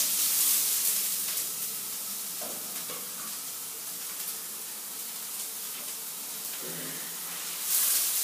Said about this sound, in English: Once that oil is hot, chuck in your onions.